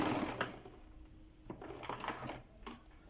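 Sewing machine stitching a palazzo jumpsuit in short, uneven bursts with pauses, moderately close and fairly quiet, with faint handling noise between runs.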